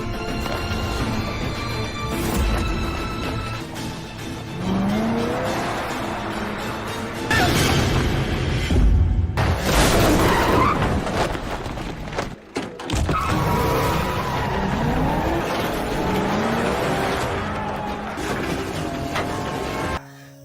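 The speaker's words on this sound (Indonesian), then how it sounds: "Raymond menambah laju mobil dan kemudian menabrakkan ke sebuah pagar yang membuat Gun terpental jauh." A car speeds and skids through a chase scene in the action film Vagabond, ending in a crash into a fence. Engine roar runs throughout, with tire screeches and heavy impacts midway and near the end, all under a dense, cinematic mix.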